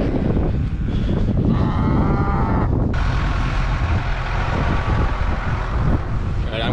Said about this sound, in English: Cows are already up here.